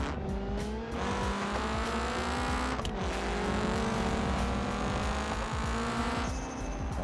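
Race cars in the BeamNG video game roar continuously, engines droning at steady pitch with tire squeal and brief shifts, a dense game mix without talk.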